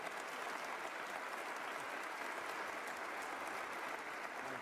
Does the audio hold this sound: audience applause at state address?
yes